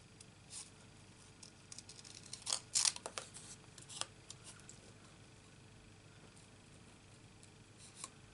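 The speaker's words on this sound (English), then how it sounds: "Cut the leaves out." Scissors snipping paper leaf shapes from patterned craft paper while making a card, a cluster of faint crisp cuts near the middle of a quiet stretch with a few isolated snips before and after.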